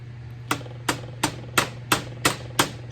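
A hammer strikes sheet metal to rough-form a trimmed lip, eight sharp, evenly spaced metallic taps in quick succession over a low steady hum, close and clear with no speech.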